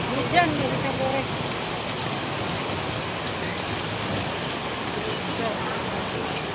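Steady rain pours at a roadside food stall at the start of 2023, a dense, constant hiss that fills the background throughout, with people talking over it nearby.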